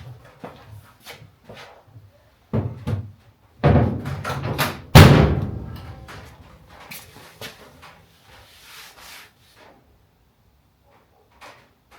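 A loose door on a Holden HG comes off its hinges: a few heavy metallic clunks and thuds, close by, with quieter knocks and handling noises between them.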